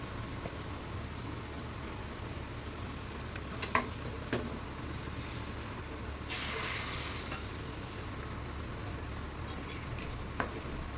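Fried tempering with asafoetida going into dal, a soft continuous sizzle with a few faint clinks and a brief louder burst of hiss partway through, heard fairly far off.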